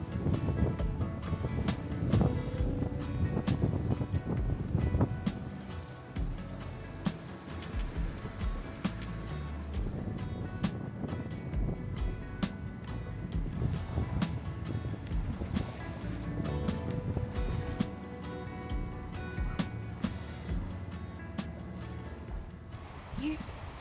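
Sailboat under way at about 6 knots near a harbor, with steady broadband wind rush and water wash against the hull running throughout, close and continuous, with some buffeting noise on the microphone.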